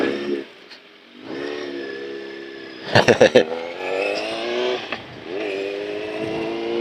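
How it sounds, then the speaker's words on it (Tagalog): A Honda Civic passes by on the road, its engine note rising and falling as it goes, with a short rattling burst midway and people talking over the passing traffic. "Uy, Honda Civic, ayan."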